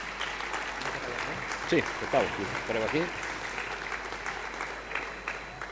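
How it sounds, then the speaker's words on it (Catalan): A crowd applauds as the mayor of Molins de Rei comes on stage at the Fira de la Candelera opening, a steady wash of clapping running throughout while someone speaks briefly over it. "Un aplaudiment"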